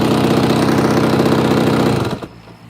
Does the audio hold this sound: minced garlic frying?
no